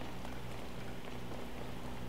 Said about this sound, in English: I'm not going to be able to climb things right now though because it's raining